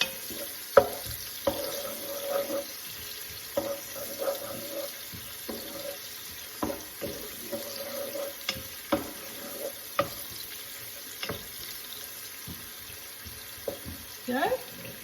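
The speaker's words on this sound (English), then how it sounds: "So we'll fry them for another minute or so." Vegetables frying in a pot as the base for lamb shank soup, giving a soft continuous sizzle broken by irregular scraping and clinking from stirring, close and fairly quiet.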